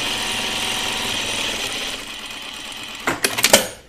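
A sewing machine runs steadily, putting rows of gathering stitches into a Colette Myrna dress, its continuous whir lasting nearly three seconds before easing off into a few short, uneven bursts near the end.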